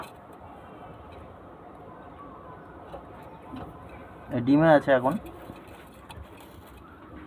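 Domestic pigeons in a loft give a single short, throaty coo midway, close by, while someone talks quietly in the background.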